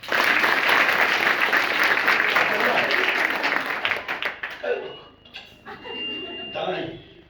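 A school audience at a reasoning competition in Basavapur claps in a dense, loud burst that thins out into scattered claps after a few seconds, and a voice then talks.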